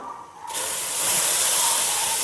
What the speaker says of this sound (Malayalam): ഇനി അതിലേക്ക് ഞാൻ പാലൊഴിച്ച് കൊടുക്കുകയാണ് കേട്ടോ